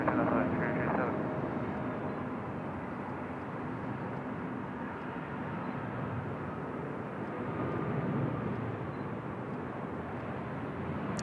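An airliner's takeoff roll at Seoul Incheon Airport: a loud, continuous broadband roar and rumble that holds steady, swelling slightly, with faint voices underneath.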